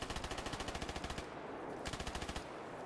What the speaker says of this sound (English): there's a lot of gunshots going on right now.